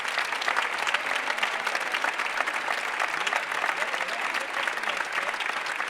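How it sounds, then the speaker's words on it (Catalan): Steady, moderately loud audience applause at a school theatre production of Les Misérables, a continuous patter of many hands clapping without voices breaking through. "Un fort aplaudiment per ells,"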